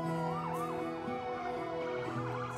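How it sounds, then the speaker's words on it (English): Police car sirens wail in the SimCity 5 city-building game, several overlapping yelping and sweeping tones layered over steady traffic hum, fairly close and continuous with no talking. "And here are some police cars."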